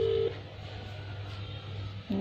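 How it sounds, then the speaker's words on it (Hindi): Phone dialing tones as a number is called: a short tone at the start and another near the end, over a steady low hum, with no voices. "तो इनका नंबर मैं फ़ोन करती हूँ"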